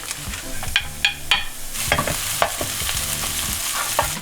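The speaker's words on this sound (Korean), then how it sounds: "팬에 버터를 넣고 준비한 재료들을 볶다가 다진 마늘을 추가합니다." Prepared vegetables such as carrot and green onion stir-fried in butter with minced garlic added, giving a loud, steady sizzle broken by repeated spatula scrapes and knocks against the pan.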